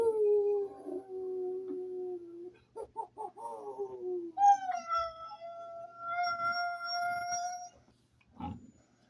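Keita the dog howling on command, a long sustained howl, then a few short broken yips and a rising second howl, close and clear in a quiet room, ending with a brief sound.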